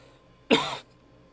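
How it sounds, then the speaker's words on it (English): A single short, harsh cough bursts out close to the mic, then quiet. "The coughing was not a bit. It just kind of happened."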